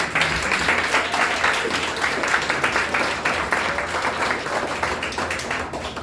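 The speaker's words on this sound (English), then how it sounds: "I also want us to give a rousing round of applause to our youths who just played wonderfully." Community center handover ceremony crowd gives a sustained round of applause for young performers, dense even clapping held at a steady level for several seconds.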